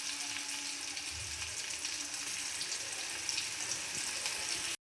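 Ginger, garlic and chili paste fries in hot oil with a steady, close, broadband sizzle that holds evenly until it cuts off abruptly at the end. No one talks.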